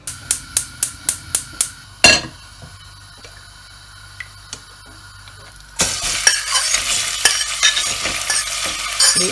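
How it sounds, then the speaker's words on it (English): A quick series of about seven sharp taps, then a quiet pause, before onions and mackerel in olive oil break into a loud, crackling sizzle that continues to the end. "So I'm going to cook the onions and the mackerel"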